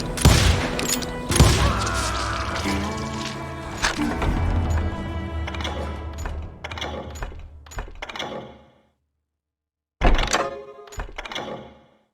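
Gunfire in the western shooter Call of Juarez Gunslinger, a dense run of sharp, loud shots and impacts over game music for about eight seconds, then a short silence and a few more bursts.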